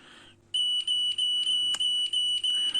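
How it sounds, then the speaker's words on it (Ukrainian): Repeated electronic beeping from a TinySA Ultra spectrum analyzer signalling a detected signal, a steady high tone pulsing about seven times at a regular quick rhythm, close and clear with a faint hum underneath. "Ми чуємо, як пищить наш аналізатор, сповіщаючи нас про те, що є сигнал."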